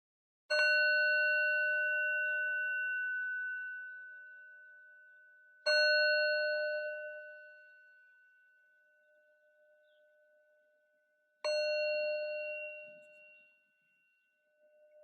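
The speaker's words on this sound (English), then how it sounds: "allowing the vibrations from the sound of the bell to carry our heartfelt wishes to whoever most needs it" A meditation bell rings three times at the close of a yin yoga session. The strikes come about five seconds apart, and each clear tone rings out and fades slowly in an otherwise silent room.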